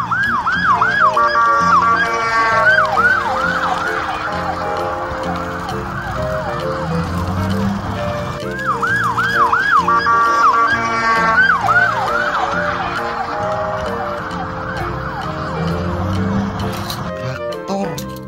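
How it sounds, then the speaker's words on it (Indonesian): A toy police patrol car plays an electronic wailing siren in loud repeating cycles, pausing and starting again, close and clear. "Mobil polisi patroli."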